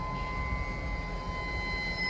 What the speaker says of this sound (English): So he's pulling the whole train up